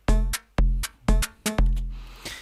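A punchy Volca Drum machine beat with booming kicks and bright snare-like hits in a quick repeating pattern, alone and fairly loud.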